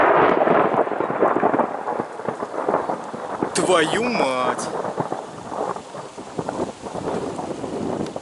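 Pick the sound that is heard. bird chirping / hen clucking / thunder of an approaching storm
thunder of an approaching storm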